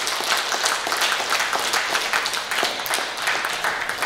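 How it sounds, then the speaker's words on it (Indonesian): Lively applause from an audience at a tvOne event launching quick-count partnerships for the 2024 simultaneous regional elections, a steady dense wash of clapping lasting the whole stretch. "Tepuk tangan yang meriah."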